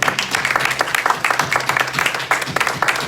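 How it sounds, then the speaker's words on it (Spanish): A church congregation claps in a brisk, rhythmic burst of hand claps, loud and close, continuing for about three seconds. "Demos un aplauso al Señor."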